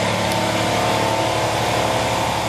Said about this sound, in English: this compressor is on.